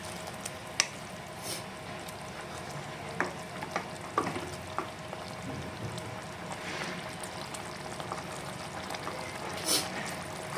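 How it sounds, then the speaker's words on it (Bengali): A spoon stirs puti fish sour curry with raw mango and a freshly added mustard and green chili paste in a pan, giving soft scraping strokes and occasional clacks against the pan over a steady, gentle sizzle. "ভালো করে নেড়ে দেবো আমরা"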